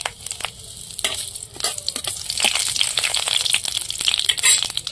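Bay leaf, dried chilli and spices crackle and sizzle in hot oil in a kitchen wok, a loud, dense frying hiss with sharp spits and pops throughout.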